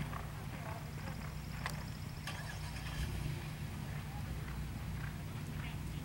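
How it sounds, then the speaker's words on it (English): Hooves of Thoroughbred racehorses clip-clop steadily at a Maryland racetrack, fairly close, with a low engine-like hum and faint crowd and announcer chatter behind them. "Lots of blood horses out here, and another one coming out."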